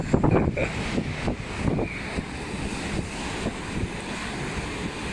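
Sea water rushes and waves wash steadily against a passenger ship on a voyage from Rome to Barcelona, with wind buffeting the microphone. The wash is broadband and continuous, with a few stronger surges early on, and no voices are heard.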